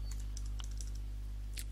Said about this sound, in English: Let's go ahead and try typing in P7.